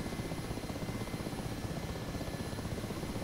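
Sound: Mi-8 helicopter landing in video game DCS

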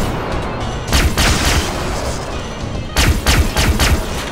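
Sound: gunfire in video game Far Cry 3 Blood Dragon

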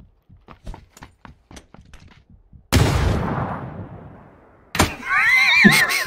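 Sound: frag grenade explosion in a video game

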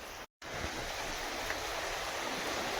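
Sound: rising tide water flowing

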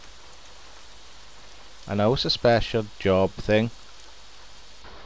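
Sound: rain in American Truck Simulator video game

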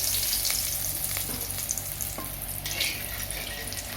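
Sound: whole garam masala spices frying in hot oil

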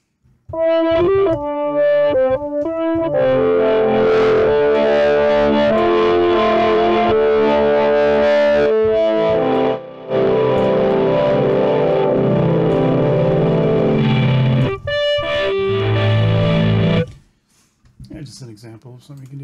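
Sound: synthesizer with effects

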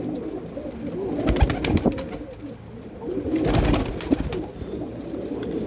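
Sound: pigeons cooing

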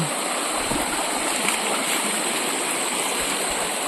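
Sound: river stream flowing

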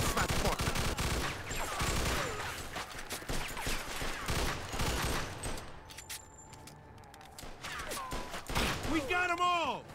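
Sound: gunfire in video game Mafia II: Definitive Edition

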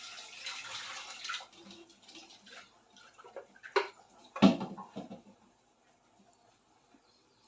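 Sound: water poured into cooking pot

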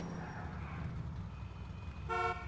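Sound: car horn honking in video game Grand Theft Auto IV

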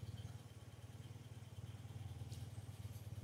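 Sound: BMW Airhead motorcycle engine idling

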